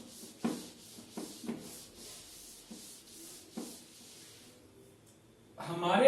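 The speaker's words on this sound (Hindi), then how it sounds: "रब कर देते हैं" A classroom board is wiped clean, giving several short scrubbing swishes in irregular strokes close by, separated by quiet pauses, followed by a louder rustle at the end.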